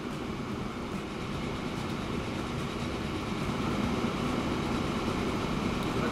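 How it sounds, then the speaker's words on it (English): A freight train hauling oil in the Transport Fever game gives a steady, loud rolling rumble with a faint rhythmic clatter that holds constant, with no voices over it. "that's pretty quick for a big train hauling a whole bunch of oil"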